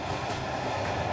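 Brief stretch of a train rolling along rails in the Czech Republic, a steady low rumble with faint rhythmic clatter, fairly close.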